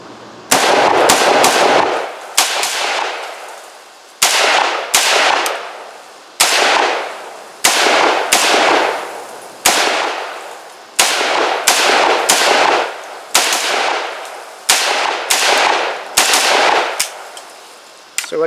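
An Arsenal SAM5 5.56 milled AK import rifle fires outdoors in loud, sharp bursts, with many cracks and brief echoing gaps between strings of shots that empty a magazine.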